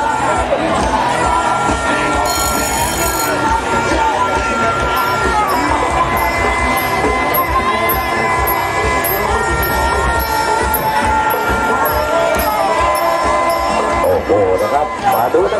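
A crowd roars and cheers at a women's Muay Thai bout between Remina (38 kg) and RungThip (42 kg), loud and continuous, with voices and a busy stream of ringside noise beneath the shouting.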